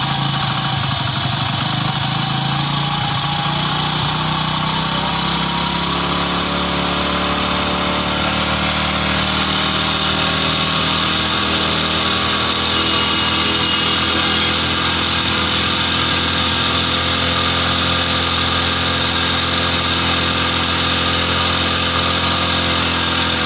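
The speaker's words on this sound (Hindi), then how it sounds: "तो बाइक को कर लेते हैं स्टार्ट।" Hero Splendor motorcycle engine starting and then idling: a steady, close mechanical putter holds continuously with a slight shift in pitch early on, alone with no talking.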